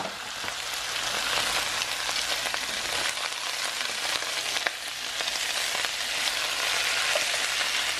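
Meat browning in a pot with onions and olives gives a steady, close sizzle with faint stirring, continuous for the whole stretch with no one talking.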